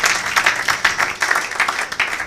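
A church congregation applauds during a sermon, a dense and steady burst of clapping from many hands, fairly loud and without speech.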